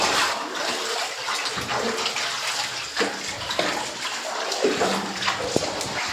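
Water runs and splashes steadily inside a cave temple shrine, a continuous watery rush with close splashy surges throughout.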